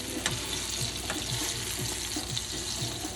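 Ripe yellow plantains fry in a pot of hot oil, giving a steady close sizzle with small irregular pops and crackles throughout, no talking.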